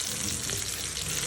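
Batter-coated broast chicken dropped into hot oil in a frying pan gives a steady, dense, loud sizzle with no pauses and no voices.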